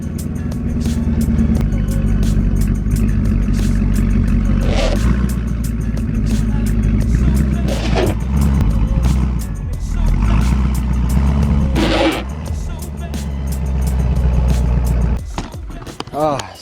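Camaro SS engine running while the car backs up, a loud, close, continuous low rumble with shifting tones and a few brief rattles, tapering off at the end.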